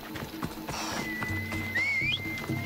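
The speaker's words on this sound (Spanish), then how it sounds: "¡Vamos, caballo!" A horse in Assassin's Creed Odyssey clip-clops at a gallop, hooves thudding rhythmically alongside a whinny and a rising whistle, loud and near.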